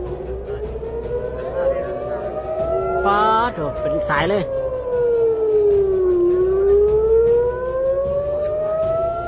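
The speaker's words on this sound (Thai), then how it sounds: "หลังเสียงไซเรนดังขึ้นสนั่นหวั่นไหว" An air raid siren wails near Tel Aviv, its pitch rising and falling in long sweeps, loud and close, with excited voices talking over it.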